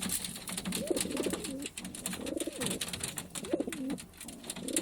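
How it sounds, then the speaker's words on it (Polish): A pigeon in a loft coos three times in a low, rolling rhythm against faint background noise, heard close and fairly clear with no talking. "Piękny gołąb."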